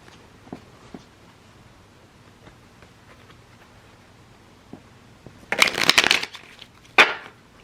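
Tarot cards are riffled and shuffled in a couple of quick, crisp bursts near the end, after a mostly quiet stretch with a few light taps.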